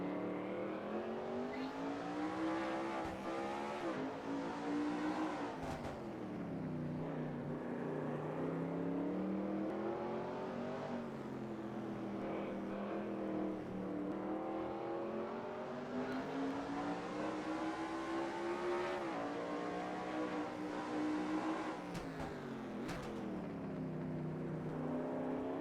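Race cars in the NASCAR Racing 2003 sim at the Toronto road course, a steady loud engine drone rising and falling through gear changes and turns, continuous for the whole stretch with no talk.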